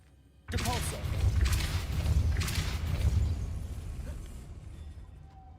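A Depulso repelling spell is cast in Hogwarts Legacy, starting with a sudden loud whooshing burst that rolls on as a dense rumble of thuds and swishes before slowly dying away.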